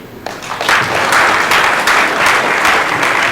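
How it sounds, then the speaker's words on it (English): An audience at a political event in Nigeria's South-East applauds loudly and steadily, a dense wash of many hands clapping that swells in after a brief pause and holds without a break. "He deserves better round of applause than this"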